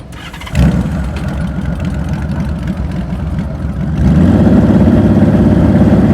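Motorcycle engine held at a steady, loaded idle during slow-speed riding practice, with a throttle blip partway through that raises the engine note to a louder, stronger running sound. The engine is close and sounds alone.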